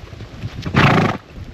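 Horse neighing loudly in a short burst outdoors while being ridden at sunset during cattle-droving work in Australia, the whinny standing out clearly over quiet surroundings.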